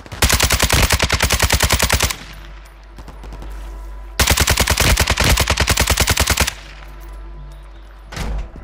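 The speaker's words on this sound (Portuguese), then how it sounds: "tem gente ali trocando tiro ali" Two long, rapid bursts of automatic gunfire in the video game Call of Duty: Modern Warfare III rattle loudly, separated by a brief lull, with another short shot near the end.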